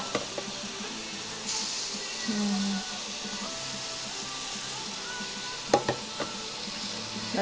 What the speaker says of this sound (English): You hear the sizzling? That's a good sound.